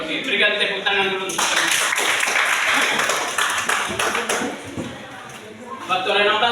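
A class applauding: a few seconds of brisk clapping from many hands in a room, with a voice talking before and after the applause.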